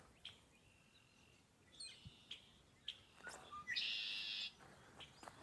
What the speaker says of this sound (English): Birds are chirping too.